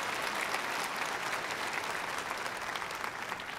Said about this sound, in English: let's give a round of applause and welcome our friend, Rabbi Jason Sobel